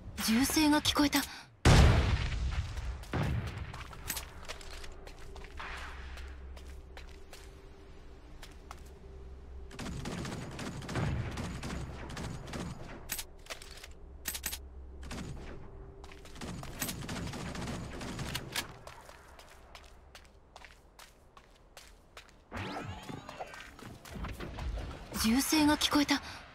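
Gunfire in the mecha shooter game Super Mecha Champions crackles in scattered bursts and volleys throughout, mixed with game effects and music, with a loud impact early on.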